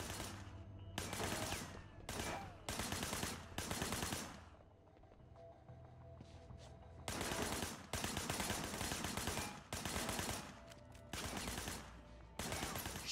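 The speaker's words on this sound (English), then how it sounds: "Shooting at the guys over there." Gunfire in the video game Sleeping Dogs rattles out in repeated loud automatic bursts, some long and sustained, with short quieter pauses between volleys.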